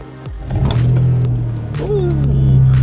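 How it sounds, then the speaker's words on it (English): Keys jingle close by, then a BMW E46 M3 engine turns over and catches, settling into a steady low idle. "So let's start the car up."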